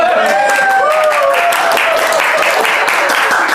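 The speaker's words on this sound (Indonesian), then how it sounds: "Boleh dong tepuk tangan" A small group applauds during an Indonesian podcast, a steady dense patter of claps lasting the whole stretch, close and fairly loud, with faint voices mixed in.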